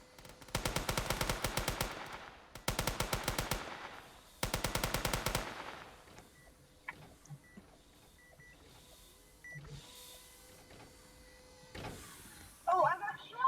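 Roblox game gunfire comes as three rapid automatic bursts, each about a second long, followed by quieter game sounds, clicks and a few beeps, with a voice talking over it.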